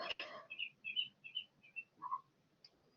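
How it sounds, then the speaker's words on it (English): A duckling chirps in the background, a run of about six high, thin peeps in a quick uneven rhythm, faint and close, following a short burst of noise at the start. "I'm really sorry about the duckling in the background chirping, guys. She's really high-pitched."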